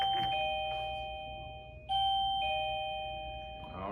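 A doorbell rings twice, two clear ding-dong chimes with a ringing tone lingering between them, fairly quiet with no talking.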